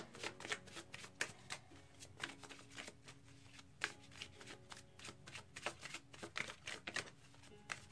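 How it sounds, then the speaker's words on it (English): Oracle cards from a flower-themed deck being shuffled by hand, a rapid run of crisp, riffling card slaps in irregular bursts, close and fairly quiet with no talking. "All right, so finally we'll pull one more oracle card."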